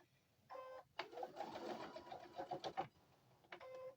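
A sewing machine quilting fabric runs in short bursts, a close, quiet, rapid mechanical stitching whir with brief pauses between runs.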